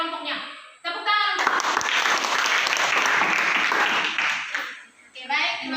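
A classroom of students applauds a presenting group, with loud, dense clapping that swells in after a brief spoken phrase and fades out, and short bits of talk come before and after it.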